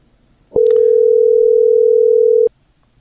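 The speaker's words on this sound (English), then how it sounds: "Sounds like he sent it to voicemail." A phone call sent to voicemail produces a single loud, steady electronic tone lasting about two seconds, clean and close, starting and stopping abruptly against near silence.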